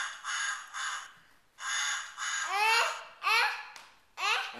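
A human voice imitates a goose with a series of nasal, rising honks, about six short calls in uneven bursts, close and clear with brief pauses between them.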